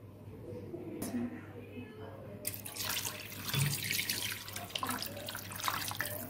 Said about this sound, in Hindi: उसके बाद हम इसमें डालेंगे पानी।